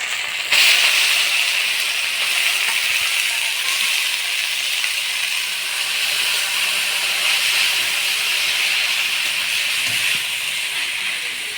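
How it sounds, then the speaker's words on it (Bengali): Pea greens drop into hot oil already spiced with cumin, bay leaf and ground coriander, ginger and radhuni paste. A loud, steady, close hiss starts abruptly and keeps up unbroken with no talk. "এবার মটর শাকগুলো দিয়ে দিব।"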